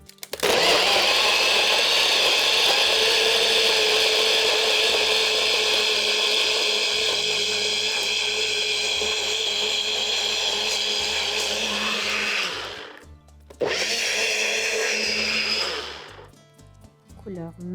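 A blender whirs loudly and steadily while mixing tahini sauce, holding a high motor whine for several seconds, then briefly stopping and restarting before winding down.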